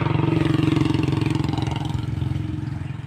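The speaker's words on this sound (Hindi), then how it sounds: "क्या दम लगाया ट्रैक्टर ने।" A Mahindra 585 DI XP Plus tractor, a 50-52 horsepower diesel, labors under full load with a loud, close, steady rhythmic chugging that thumps evenly and eases slightly toward the end, with no talk over it.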